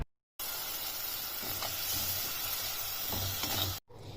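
Fish curry with tamarind water bubbles in a mud pot on a village home stove, a steady close hiss and simmering fizz with a few soft stirring knocks, starting and stopping abruptly.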